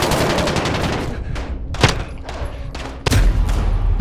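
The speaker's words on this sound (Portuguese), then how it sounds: "Meu, eu atirei em cada um dos dois." Gunfire from the video game Call of Duty Modern Warfare: a burst of rapid shots, then a sharp loud blast near 1.8 seconds and another heavy shot near 3 seconds, close and dense, with no speech.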